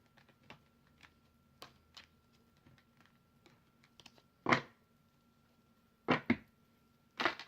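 A deck of tarot cards is cut and handled, giving soft scattered taps and then three short louder riffling shuffles, quiet and close with no talk.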